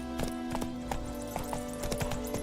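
Hoof clip-clops from Roach, the horse in The Witcher 3, several separate strikes in loose rhythm over a steady background hum with faint tonal music, no voices.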